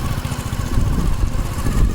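Motorcycle crossing a bridge in rural Saraiki country, its engine a steady close, loud chugging putter that runs continuously, with no voices over it.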